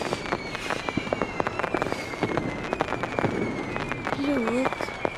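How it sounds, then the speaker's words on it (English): Crackling fireworks in the video game Dream Diaries, many sharp pops and bursts scattered irregularly over several seconds, with a voice speaking beneath them and a warbling tone near the end. "The fireworks gradually comes to an end, but the smell still lingers in the air"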